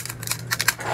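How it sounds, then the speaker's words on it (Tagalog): Kitchen scissors snip through the shell of a large 2.4-kilo lobster, a quick run of crisp crunching cuts over about a second, close and fairly clear, with no talk during the snipping. "Gunting, kuha tayo gunting."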